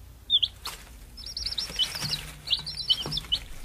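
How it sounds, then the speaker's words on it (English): Cartoon baby birds chirp in a tree nest as the mother bird sings: quick, thin, high tweets repeat in short bursts at moderate distance over a soft background, with no talking. "The bird is singing so sweetly."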